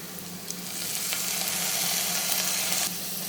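Tamarind chutney mixture sizzling and frying steadily in a pan, a close, continuous crackle with faint stirring scrapes and no talk.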